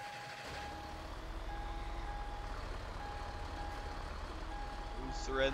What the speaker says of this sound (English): Let's park our truck.